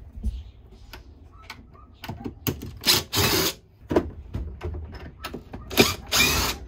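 Screws undone at an angle at the base of an RV fridge with a ratcheting tool, giving close, loud bursts of clicking and whirring with short pauses between them.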